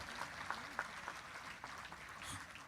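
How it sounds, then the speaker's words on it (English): A crowd at a youth event claps for the arriving Minister of Humanitarian Affairs, a dense, moderately loud patter of hand claps sustained throughout with a few sharper individual claps standing out. "Clap a little louder for the minister."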